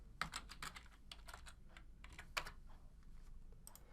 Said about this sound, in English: we're going to type the name of the student attending camp